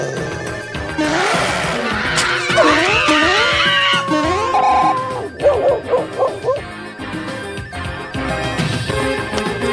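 Several dog barks and yips from a Super Mario Bros. 3 video game, loud and close, rising into a rapid run of yelps with game music and sound effects around them.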